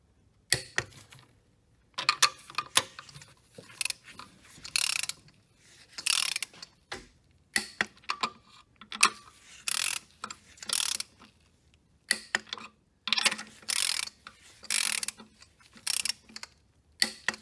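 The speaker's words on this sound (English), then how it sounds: "let's go ahead and torque that down as well" A hand ratchet torques down bolts on a Hyundai Sonata Hybrid 2.4L engine during a head gasket job, giving repeated bursts of close, crisp clicking separated by short pauses.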